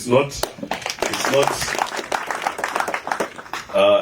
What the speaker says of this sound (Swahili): Makofi kwenu.